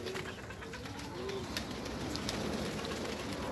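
Pigeons crowded in a loft give a few low coos early on, then a soft, steady shuffling hiss of movement, fairly quiet and without talk.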